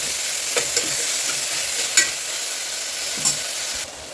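Onions sautéing with salt in a pan for a Chettinad-style onion gravy, a steady soft sizzle with a few light clicks of stirring scattered through, no voices.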